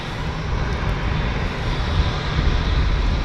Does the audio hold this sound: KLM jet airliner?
yes